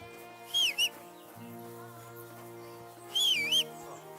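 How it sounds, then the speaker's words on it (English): Whistling in the video game Kingdom Come Deliverance 2, two short warbling whistled phrases near the start and end over a soft background hum and tonal ambience. "Drop that whistling."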